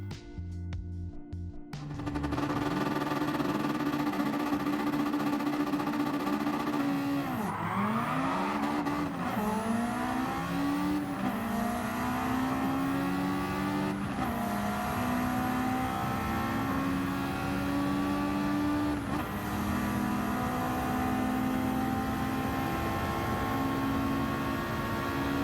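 A Mitsubishi Evo 9 with a swapped Group B Final Edition 4B11 engine making over 700 horsepower drives in Gran Turismo 7, its engine droning steadily, dipping and climbing through gear changes with tire squeal, loud and continuous without talk.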